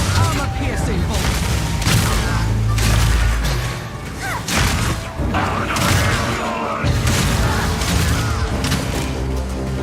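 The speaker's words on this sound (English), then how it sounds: "Permafrost bolts. Incendiary bolts. Armor-piercing bolts." Crossbow bolts fire in Path of Exile 2, including permafrost, incendiary and armor-piercing types, as a dense run of loud booms, thuds and bursts of impact noise stacked over game music and effects.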